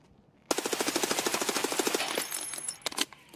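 Escape from Tarkov gameplay with a fast burst of automatic MP5 fire, about twenty rapid shots in a steady rattle, then a few scattered clicks and handling noises, fairly quiet overall.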